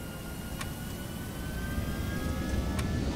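Airbus A320 jet engines in the X-Plane 11 flight simulator spool up in a steady, broad roar that swells slightly over a few seconds, with a faint high whine running through it.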